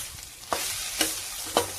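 Okra stir-frying in a pan after a sprinkle of sambar powder, a steady soft sizzle broken by three sharp scraping stirs of the spatula, close and alone with no voices.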